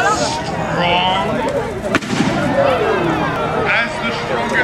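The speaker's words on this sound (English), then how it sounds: "Do you want another shot from the cannon?" A cannon fires once during a medieval-style projectile demonstration, a single sharp blast midway through, surrounded by steady crowd noise and people talking.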